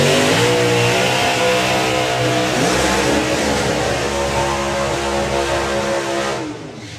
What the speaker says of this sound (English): So the next pair are side-by-side blown cars this time.